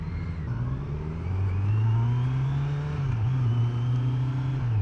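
A Kawasaki Z900 motorcycle in sport mode pulls smoothly through its rising engine note, a steady loud drone climbing in pitch with one brief dip before building again, heard close up from the rider's position.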